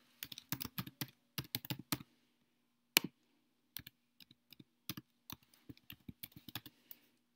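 Computer keys clatter in quick, uneven bursts with short pauses between, a close, quiet typing of account details into a form.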